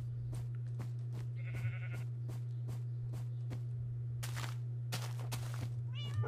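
Several short cat meows in Minecraft over a steady electronic hum, with scattered clicks and a few brighter chirps near the end.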